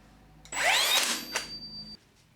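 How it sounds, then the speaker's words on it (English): Tacwise Ranger 2 angled finish nailer driving a nail through painted MDF into plywood: a single sharp pneumatic burst with a whining hiss that holds for about a second and a half, close and loud. "You can see that it has actually fired in that nail and it hasn't actually marked the surface at all."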